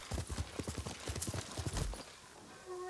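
A horse trots in Ghost of Tsushima, with steady rhythmic clip-clop hoofbeats, close and fairly loud over a wide background hiss, that stop after about two seconds.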